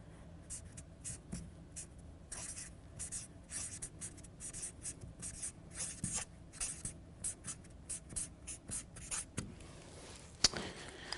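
Marker or chalk writing on a board during a language lesson, a steady run of short scratchy strokes and taps at close range, with no talk over it.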